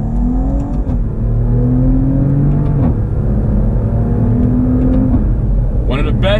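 A 2019 Maserati Levante GranSport in sport manual mode revs hard and accelerates, its loud, close engine note rising through gear changes with a brief dip near one second, a steady powerful roar throughout.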